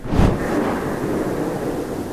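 An ASUS ROG Destrier Ergo gaming chair rolling on the floor: a low rolling rumble swells with a brief thump at the start, then continues as a steady, muffled rushing noise with no talking.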